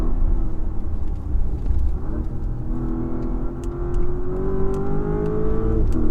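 A Porsche engine pulls hard under load at the Festival of Speed, a loud, close rumble whose pitch climbs steadily as the car accelerates, with no talking.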